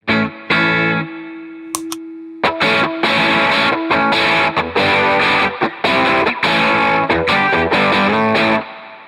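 A loud, gritty electric guitar played through a boost pedal plays chords and short riffs with heavy overdrive and a thick, saturated tone; nobody speaks.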